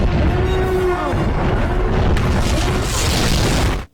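A heavy explosion from incoming fire strikes a Thranta-class warship in a Star Wars: The Old Republic game, a loud sustained roaring blast with rumbling debris that cuts off abruptly at the end.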